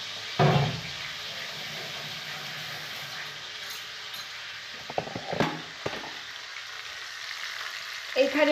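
A fish head and fish are frying in hot oil in a pan, producing a close, continuous sizzle. A sharp burst of crackle comes as they hit the oil, with a few clinks and scrapes later on and no speech.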